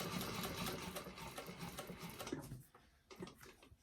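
A sewing machine stitches a bag seam at a quarter-inch allowance, running in a steady, close mechanical whir that stops abruptly near the end, then starts again in a short burst.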